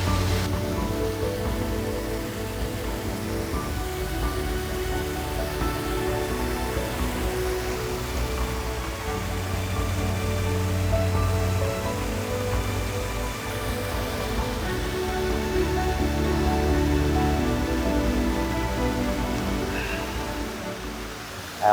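Steady broadband rush of water at the Baş Daşağıl waterfall in Oğuz, a dense continuous roar filling the whole stretch with no pauses.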